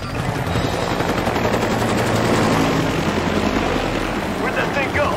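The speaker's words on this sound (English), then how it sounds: "these are bullets they're shooting for real" Rapid gunfire from a Ben 10 cartoon episode, a dense, continuous rattle of shots that runs loud and steady from start to finish under a busy soundtrack.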